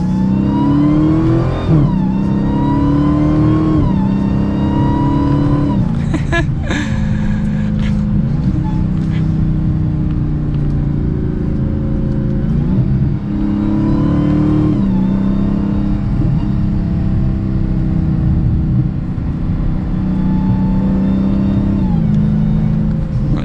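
A 2021 Dodge Challenger SRT Super Stock accelerates hard through several gears, its V8 engine rising in pitch repeatedly with short dips at each shift, loud and close from inside the cabin.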